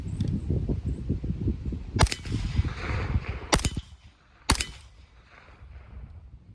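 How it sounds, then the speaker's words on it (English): Three sharp, loud gunshots crack from a Smith & Wesson FPC 9mm folding pistol carbine at a range, spaced about a second or two apart, each with a quick ringing decay after a stretch of low handling noise. "I'll shoot a couple more, see where we hit now."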